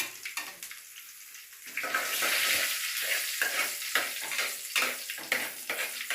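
Chopped onions sizzle steadily in a hot pan for a tender jackfruit thoran, with a continuous close frying hiss broken by bursts of stirring and scraping.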